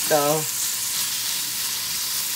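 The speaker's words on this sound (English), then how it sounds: "I like to little saute them and make them little hot, so that all the germs get cooked" Onions sauteing in a pan give off a steady bright sizzle, opening with a short tonal squeak before settling into even crackling frying.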